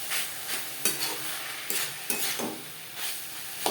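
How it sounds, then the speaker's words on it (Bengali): Fried banana stem being stirred with powdered sugar in a pan, spatula scraping in repeated strokes about every half second over a steady background sizzle, close and clear, with no talking. "সুগার পাউডার থোরের সাথে বেশ ভালো করে মিক্স করে দেব।"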